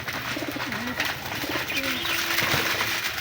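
Domestic pigeons cooing in soft repeated rolling calls while being fed, close and fairly loud over a busy background of rustling and faint voices.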